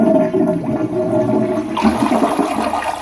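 A Glacier Bay dual flush toilet flushes loudly and close by, water rushing and gurgling through the bowl for a few seconds, with a brighter hiss of refilling water rising toward the end.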